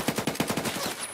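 Rapid automatic gunfire in the video game Escape From Tarkov: a burst of about ten evenly spaced shots, loud and close, ending abruptly.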